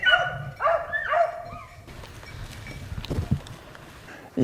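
Hunting dogs baying on a rabbit chase in the woods: a burst of repeated yelping barks in the first two seconds, then a fainter rustling outdoor background with scattered thumps.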